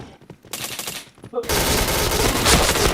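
Gunfire in the online shooter Point Blank, a quiet patter of shots that gives way after a brief pause to loud, dense, sustained automatic fire.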